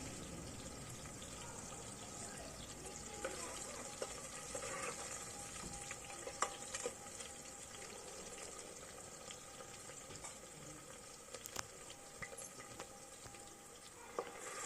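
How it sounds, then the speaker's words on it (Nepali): Onion frying in a pan after cumin seeds have browned in the oil, for a vegetable thukpa; a steady, close hiss and crackle runs throughout with a few brief clinks and scrapes, and no one speaks. "प्याजलाई एकछिन भुट्नुपर्छ"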